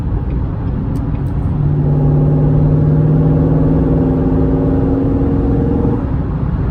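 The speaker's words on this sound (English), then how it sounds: "can hear that when I lug the engine a little bit" Close and loud, a C7 Corvette Stingray with an Injen intake lugs at low rpm, its deep engine drone building and holding steady before fading slightly, with no voices.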